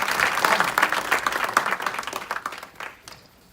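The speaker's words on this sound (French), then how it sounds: "On peut acclamer très fort." A church congregation claps and cheers loudly, a dense wash of applause that gradually thins and fades toward the end.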